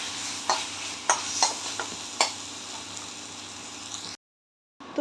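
Chicken keema filling stirred in a pan for potoler dolma, with a steady sizzle broken by several sharp scraping strokes, then a brief silence before the sizzle returns.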